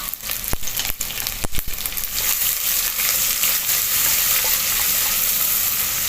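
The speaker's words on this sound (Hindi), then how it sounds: "यहाँ पे जो प्याज कट करके रखी है वो डाल दी है।" Chopped onions fry with garam masala in a pan, opening with a few sharp clatters of stirring before settling into a loud, steady sizzle with no talking.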